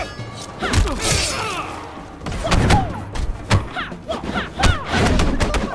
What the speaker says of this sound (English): Oh, look at that combo. Oh, that uppercut.